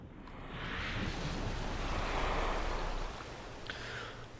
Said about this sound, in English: We've successfully splashed down.